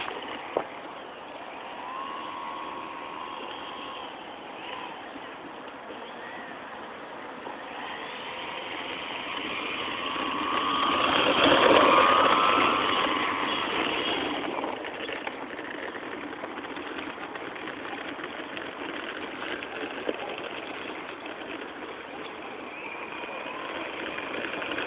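A Piper Cherokee light airplane's engine drones steadily while taxiing, swelling louder about midway as it passes close, then settling back to a constant hum, with a few faint clicks.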